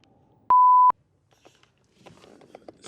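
A single short electronic phone notification beep, clean and fairly loud, followed by faint rustling and small handling noises in a quiet room.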